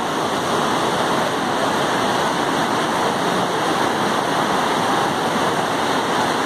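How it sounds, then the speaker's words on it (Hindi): The Alaknanda river rushes past at Badrinath in a loud, steady roar of fast water, close and continuous throughout, with no voices over it. "तो हम देख पा रहे हैं कितना तेज इस अलकनंदा का प्रेशर है।"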